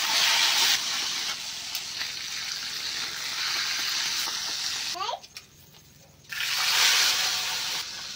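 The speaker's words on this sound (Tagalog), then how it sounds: "nalagay na tayo dito ng mantika and then pinirito na natin yung ating isda" Tilapia frying in hot cooking oil, a steady broadband sizzle and hiss that runs nearly throughout, dropping away briefly in the middle before surging back loud and close.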